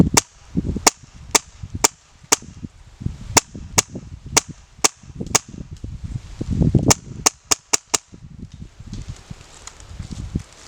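A Wolverine MTW airsoft rifle firing tracer shots outdoors, about a dozen sharp snapping cracks spaced roughly half a second apart, loud and close, with soft rustling and handling noise between them.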